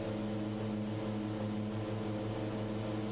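A de Havilland Twin Otter's turboprop engines drone in a flight simulator, a steady loud low throbbing hum with a faint high whine, constant throughout with no voices.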